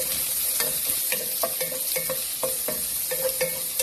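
Onion and garlic fry in cooking oil for Filipino chicken adobo, sizzling steadily up close while a utensil stirs and scrapes the pan in quick, repeated strokes.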